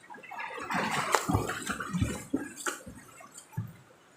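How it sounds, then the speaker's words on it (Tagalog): River water in Bulusan, Bicol, splashing and gurgling close by in irregular bursts, with dripping and sloshing but no steady rushing flow and no voices. "Ang gaganda ng ilog dito sa Bulusan,"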